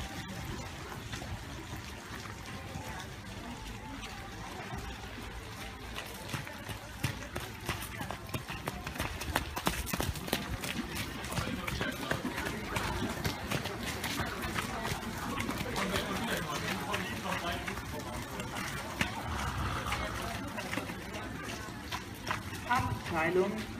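A horse trots through a dressage test in an arena, with steady rhythmic hoof beats at mid distance throughout, faint rustling and background noise around them.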